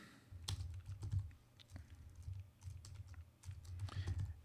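Someone types on a computer keyboard while filling in form fields, producing quiet, close clicks and taps in irregular bursts with short pauses between runs of keystrokes.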